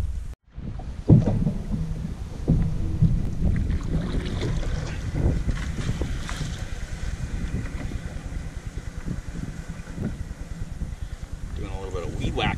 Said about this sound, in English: Doing a little bit of weed whacking here with the paddle.